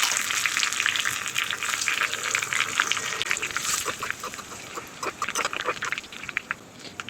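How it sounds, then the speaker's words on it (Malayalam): Shallots and red chilies fry in oil in a clay pot for a traditional pumpkin curry, giving a steady, close, crackling sizzle with bursts of sharper popping throughout; no talking. "ഉള്ളി മൂത്ത് വരുന്നുണ്ടെങ്കിൽ നമുക്ക് ഇതിലോട്ട് ചുവന്ന മുളക് ഇട്ട് കൊടുക്കാം."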